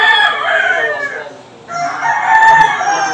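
Roosters at a cockfighting arena crow loudly and close by, two drawn-out calls separated by a brief pause, with faint background noise underneath.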